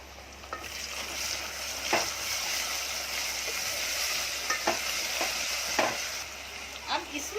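Ginger garlic paste, two tablespoons, frying and being stirred in a pan for a peas and potato pulao, a steady close sizzle with occasional scraping clicks of the spoon, no talk.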